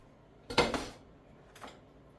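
A non-stick frying pan knocks and scrapes twice at close range while being handled on a kitchen counter for grilled cheese: a louder clatter, a pause, then a softer second knock.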